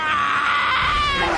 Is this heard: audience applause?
no